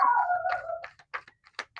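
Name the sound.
dog barking or howling downstairs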